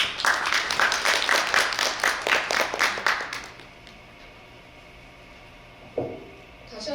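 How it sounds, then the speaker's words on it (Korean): An audience at an international media and information literacy conference claps after a talk, with the applause loud and fairly even for about three seconds before it fades to a quiet room with a brief bump. "다시 한번 그 정재훈 교수님께 감사의 박수 한번 부탁드립니다"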